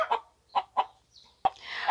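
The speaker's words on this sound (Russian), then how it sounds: "Когда курицы вот так вот говорят, значит, они снесли яйцо." Domestic hens cluck after laying an egg on a village farm: a few short, sharp clucks in an uneven rhythm, then a louder, drawn-out squawking cackle, close and with no talk.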